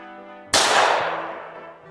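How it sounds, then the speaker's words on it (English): A single sharp pistol shot cracks out after a brief pause, loud and close, then decays over about a second. "let's try out the stock pistol, shall we?"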